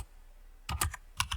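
Typing on a computer keyboard while coding a Dart backend: a quiet pause, then a quick burst of crisp key clacks, a short gap and a final pair of taps, close and clear.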